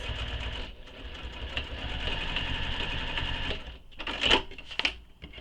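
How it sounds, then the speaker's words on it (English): A sewing machine back-stitching a handmade leather wallet runs in a steady, close mechanical whir that pauses briefly, then gives a few short, louder bursts as the stitches are locked in. "And I'm back stitching, making sure you really lock in those stitches."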